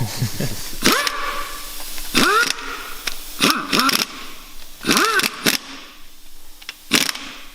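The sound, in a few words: rattle gun (impact wrench) used on engine bottom end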